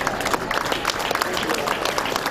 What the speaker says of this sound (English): It began before sunup to the applause of family and friends at Bluegrass Airport.